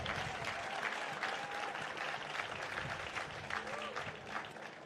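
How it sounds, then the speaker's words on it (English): Applause ripples through the room at a post-race IRONMAN 70.3 press conference for the men's finishers, a sustained moderate clapping with a few faint voices and whistles mixed in. "A big round of applause for Germany's Rico Bogen."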